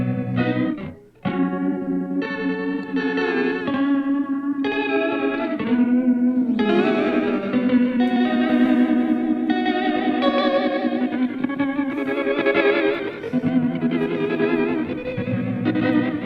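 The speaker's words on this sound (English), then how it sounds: "You hear the trem really pounding away under the chorus." Electric guitar through an OBNE Visitor modulation pedal, a strong tremolo pulsing under a lush chorus. Sustained, wavering chords ring loud and close with steady throbbing and shimmering reverb, and no voices.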